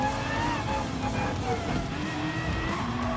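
Aston Martin Vulcan V12 race car in Gran Turismo 7, a steady loud engine drone with shifting tonal whine held throughout, close and continuous.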